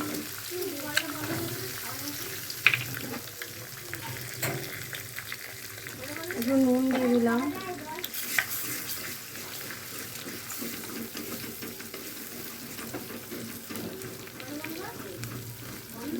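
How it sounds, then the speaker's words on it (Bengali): Two eggs with salt and turmeric sizzle and get stirred in a hot pan for pasta, a steady low frying hiss with occasional scraping, heard under a voice. "তোমরা দেখছো ডিমগুলো ভাজা ভাজা হয়ে এসছে।"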